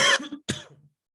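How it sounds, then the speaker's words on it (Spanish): A couple of harsh, close coughs in quick succession, the first louder, then a short throaty follow-up. "Perdón por la tos"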